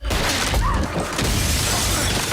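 Glass shatters in a scene from the 2003 movie Out of Time, a loud, dense crash with scattering debris, filling the whole moment with no talk.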